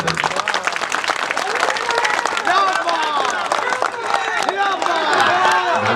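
A crowd applauds at a BJD political campaign event in Nayagarh, with dense, sustained clapping and scattered cheers and voices mixed in throughout.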